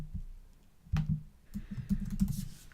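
Keystrokes on a computer keyboard while entering a web address, heard as scattered soft clicks in short bursts at close range, with a brief louder cluster of taps partway through.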